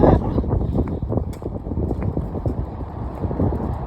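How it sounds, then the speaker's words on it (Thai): Strong gusty wind buffets the microphone in a loud, continuous low roar with rumbling thumps throughout. "เสียงลม"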